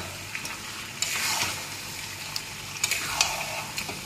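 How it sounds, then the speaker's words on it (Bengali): Yogurt-marinated mutton pieces hit a hot pan of spices and fry with a steady close sizzle, broken by a few brief clatters and scrapes of stirring. "এবারে মাংসটা ছেড়ে দিই এই যে দই মাখানো মাংস।"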